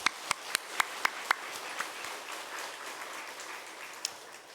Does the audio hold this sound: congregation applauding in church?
yes